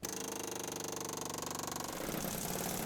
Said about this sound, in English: The air chisel is a good tool for cutting sheet metal and other vehicle parts.